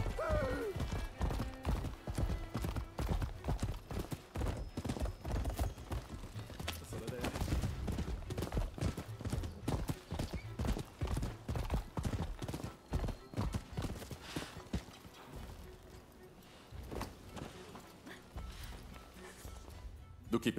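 Horse in the samurai video game Rise of the Ronin galloping with rapid, loud clip-clop hoofbeats running almost the whole time, slowing near the end, over game sounds and some speech.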